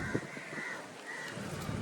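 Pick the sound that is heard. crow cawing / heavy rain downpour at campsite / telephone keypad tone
crow cawing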